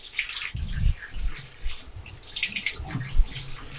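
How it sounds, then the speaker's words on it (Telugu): Running tap water splashes over raw chicken being washed in a kitchen, with irregular gushing and splattering bursts, fairly close and with no talking. "చికెన్ శుభ్రంగా 2-3 సార్లు శుభ్రంగా మనకి కొంచెం స్మెల్ రాకుండా కడిగేసుకుంటుండే అంతే."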